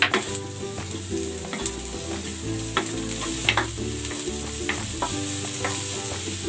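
Garlic and onion fry in hot oil in a pan, a loud, steady, close sizzle with sharp crackles and spits scattered throughout, no voices.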